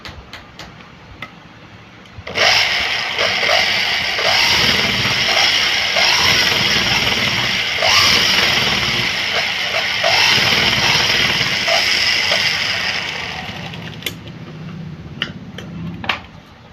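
A sewing machine stitches a blouse hem with a long stitch, running in a steady rapid whir for about twelve seconds, then slowing and stopping, with a few isolated clicks before and after.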